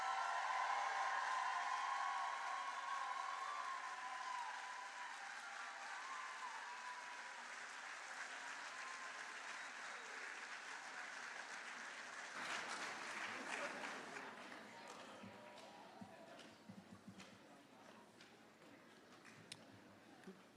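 A graduating physician assistant class at a commencement ceremony receives sustained audience applause, a dense wash of clapping that softens slowly, then gives way to scattered claps and room noise.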